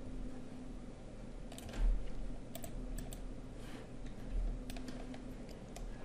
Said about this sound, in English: press control in the keyboard